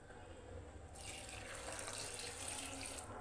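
Water pours steadily into a cooking pot holding carrot, tomato and other vegetables, a continuous close splashing rush that grows brighter after the first second.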